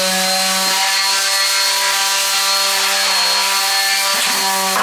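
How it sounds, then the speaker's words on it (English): Plaster being sanded on plasterboard, a continuous loud abrasive grinding with a steady whine, close up and without talk. "So back to plastering. Sanding."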